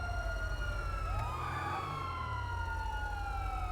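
A police car siren in GTA 5 wails steadily with rising and falling sweeps, heard alone over a low engine rumble, as if a patrol car is closing in.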